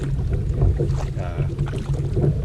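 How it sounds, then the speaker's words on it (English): A loaded canoe glides across a lake under paddle strokes, with soft water swishes and light wind rumble against the microphone, close and continuous. "canoe's paddling awesome with a load"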